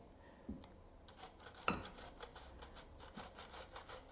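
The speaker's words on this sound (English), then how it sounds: "We want to just grate this tomato and have it go right inside" A washed tomato rubbed across a kitchen grater for a roasted eggplant dish, giving a run of close, rasping strokes with a couple of sharper scrapes in a quiet setting.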